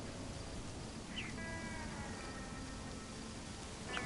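Faint, brief meows from cats in the Lake video game, two or three short cries over a steady low ambient hiss with no talking.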